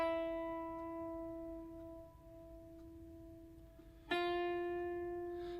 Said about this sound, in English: The next one is the classical style vibrato, which is a side-to-side vibrato.